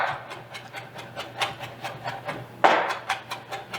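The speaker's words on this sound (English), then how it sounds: "Just kind of want to cut in various directions, always keeping a nice pile and scraping your knife" Knife chopping jalapeños on a cutting board while cooking jackfruit carnitas: a quiet, steady series of soft rhythmic knocks, about three per second, with one sharper scrape partway through.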